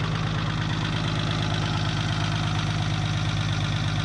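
A cold 1975 Chevy stepside diesel engine idles roughly and steadily up close, with a loud, continuous knocking rumble and no voices.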